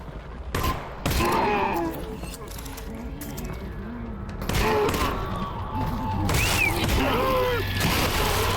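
Shot explosive objects blow up in Half-Life: Alyx, a virtual reality game, as several sharp, loud blasts with rumbling tails. Someone talks over and between the bursts.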